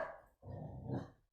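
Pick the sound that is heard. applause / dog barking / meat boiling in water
dog barking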